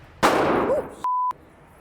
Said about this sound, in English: the sound and power of gunfire almost instantly startles Antonia.